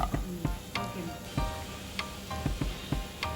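Fried idli pieces cook in masala over a medium flame, with a soft, continuous sizzle under a series of sharp, irregular clicks and scrapes of a spoon stirring in the pan.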